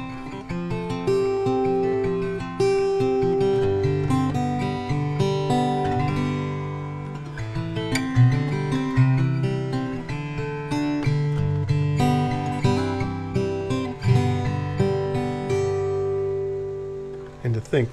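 A white oak parlor guitar, only a few days strung, being played in a steady run of plucked notes and chords, close and clear with no voices.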